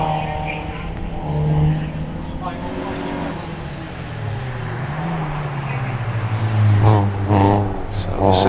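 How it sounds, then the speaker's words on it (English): A Citroen Saxo VTS rally car pulls away on a hillclimb, its engine note rising and falling through gear changes as it accelerates and fades. A commentator talks over it. "Tom Weaver, we're complete with onboard camera, gets away in the Citroen Saxo VTS"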